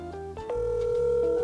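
A telephone call rings through, steady electronic tones that shift in pitch and then hold a sustained ringing note, close and clear with no talk.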